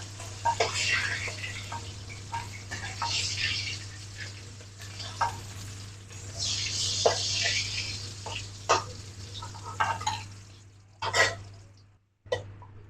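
Rohu fish pieces frying in hot oil in a home kitchen, a steady soft sizzle with occasional stirring and scraping sounds and brief pops, ending in a short silence.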